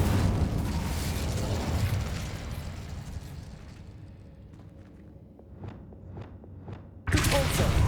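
An Incendio fire spell is cast in Hogwarts Legacy as a loud roaring fiery burst that fades into scattered crackles and pops, before a second sudden blast cuts in at the end.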